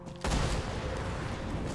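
Turret gunfire in Borderlands 2, a sudden loud burst of rapid shots starting after a brief quiet moment and continuing steadily, with no talk.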